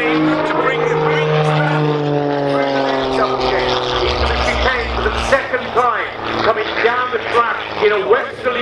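A Red Bull Air Race propeller plane flies at the Farnborough International Airshow, its engine droning and shifting in pitch as it maneuvers. A commentator talks loudly over it throughout.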